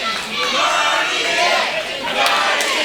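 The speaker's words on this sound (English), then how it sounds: "You hear the crowd chanting Guardian" A crowd in a wrestling arena chants a wrestler's name during a cage match, a loud, continuous roar of many voices filling the space.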